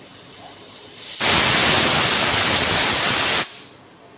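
A pressure cooker whistle vents steam in one loud, harsh hiss lasting about two seconds, rising abruptly from quiet and cutting off just as sharply, while jahaji korma cooks inside.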